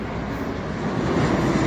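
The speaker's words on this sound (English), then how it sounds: "There's a plane." Airplane flying overhead near a train station in the Blue Mountains, a steady broadband engine roar that swells slightly, heard briefly with no talk.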